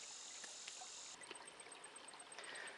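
A stream flows beside an off-grid cabin, its steady broadband rush and trickle continuous and fairly quiet throughout, with small splashes and gurgles surfacing here and there.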